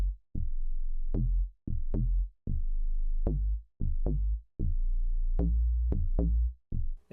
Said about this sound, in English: This is a substitute for a tube bass.